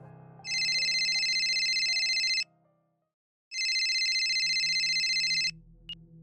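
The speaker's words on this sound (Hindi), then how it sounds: "तभी अचानक मेरा फोन बजने लगा।" A phone rings loudly in two long electronic trill bursts separated by a short silence, standing alone without any talking.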